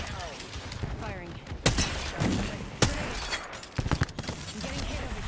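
Gunfire in the video game Apex Legends, several sharp bursts and single shots with thuds and impacts spread through a busy battle, under a player's talking.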